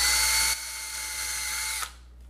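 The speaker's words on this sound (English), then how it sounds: "Now we're going to use our drill bit again and pre-drill just a little bit here." A power drill whines steadily at high speed, pre-drilling a small hole in wood during a guitar body build. The pitch drops slightly partway through before the motor cuts off and spins down.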